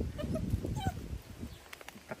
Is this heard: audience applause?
no